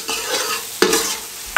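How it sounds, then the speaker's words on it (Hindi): Roughly cut onion sautéing in a pan for green chilli sauce: a close sizzle with two sharp spatula scrapes, loud and brief, no voices. "हल्का सा हमने प्याज को नरम किया।"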